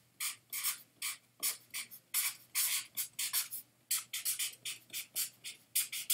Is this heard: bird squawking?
no